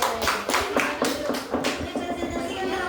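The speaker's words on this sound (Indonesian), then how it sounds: "Oke, begini tepuk tangan." Several people clap their hands in a rhythmic pattern, sharp repeated claps in quick sets, loud and close.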